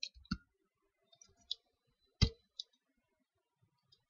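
A few sparse, sharp key clicks from a computer keyboard while console code is typed, separate taps with pauses between them, close and fairly quiet with no voice.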